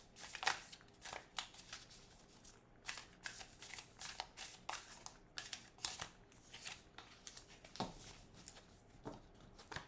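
A deck of tarot cards gets shuffled by hand. Papery riffles and flicking bursts come close and crisp, with short pauses between the shuffles.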